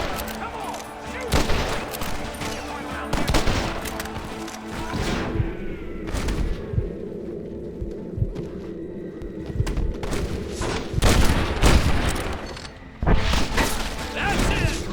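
Gunfire in the Western game Red Dead Redemption: loud, close cracks and rapid volleys with clattering mechanical noise and thuds, crowded together across a tense shootout.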